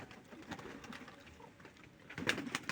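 Pigeons at close range give soft, low coos, with faint rustling and light pattering around them and a louder burst of cooing near the end.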